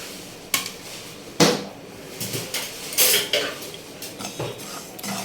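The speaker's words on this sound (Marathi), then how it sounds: "जेवढे मसाले घेतलेत ते मसाले सगळे आपण आता इथे फ्राय करून घेणार आहोत, थोडेसे भाजून घेणार आहोत" Spices for mango pickle are dry-roasted in a pan, with metal spoon clinks and scrapes against the pan sounding in irregular knocks, close up; a voice speaks faintly at times.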